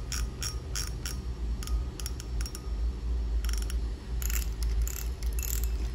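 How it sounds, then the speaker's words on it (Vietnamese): Anti-reverse clicker on a Shimano Ultegra fishing reel with metal spool and handle and carbon body, giving quick bursts of sharp ratcheting clicks in uneven runs, close up over a low background rumble. "Đây là tiếng lưỡi gà của máy nha."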